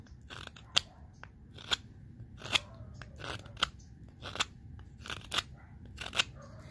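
A beginner Beavercraft carving knife slices shavings from a wooden Scandinavian butter knife, giving a steady series of sharp, close scraping cuts with short crisp peaks about once a second.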